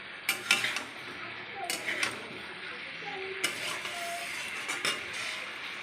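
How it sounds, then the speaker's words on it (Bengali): Spices are stirred in a cooking pan for a banana-stem curry, with a soft sizzle under repeated scraping and clinking strokes of a spoon against the pan, fairly close and intermittent, with a few faint tonal sounds in the background. "নাড়াচাড়া করবো মশলা দিয়ে, ভালোভাবে একটু নাড়াচাড়া করবো"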